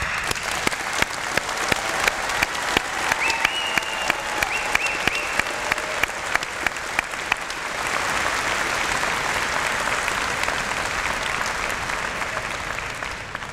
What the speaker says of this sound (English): we owe a big round of applause to our newest graduates